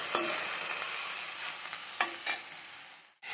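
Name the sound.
Vallari leaves cooking and sizzling in a pan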